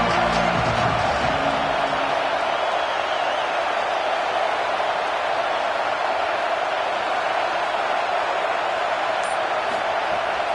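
A football stadium crowd at a UVA vs. Virginia Tech game roars steadily behind the defense on a third down, a dense, unbroken wall of cheering that holds loud from start to finish.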